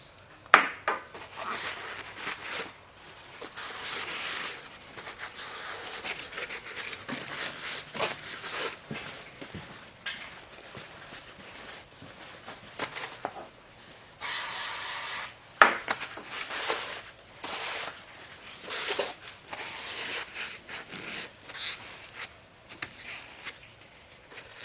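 Cloth rubbing and wiping inside the coarse cast iron combustion chambers and spark plug holes of a Willys CJ3B F-head engine, a steady run of close, soft scrubbing strokes with a few sharper scrapes.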